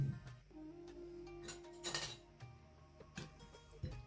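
A spoon mixes soy sauce and vinegar in a bowl for a cheese chicken panini, giving quiet scattered clinks and taps of metal on the dish over a low background hum.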